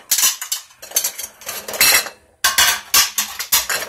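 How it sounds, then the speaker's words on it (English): Dishes, plates and cutlery being put away in a home kitchen, a run of loud, close clatters and clinks in bursts with a brief pause midway, no voices. "Sorry if you hear so many rackets, but I'm putting the dishes away, so kind of a little noisy"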